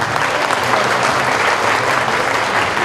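A conference hall audience gives loud, sustained applause for a visiting party leader in Kayseri, Turkey, dense and even throughout before stopping at the very end.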